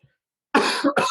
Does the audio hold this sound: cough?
yes